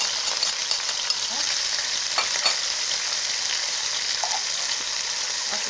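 Chicken frying in a pan with garlic, a steady close sizzle with occasional small pops and stirring clicks, no talking.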